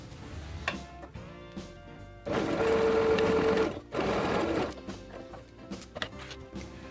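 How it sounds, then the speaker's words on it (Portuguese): A sewing machine runs in short bursts, stitching a straight seam for a pencil case at one presser-foot width, with a sustained louder run in the middle and quiet pauses between the passes. "E primeiro a gente vai passar uma costura reta aqui, com a distância de um pé de máquina também."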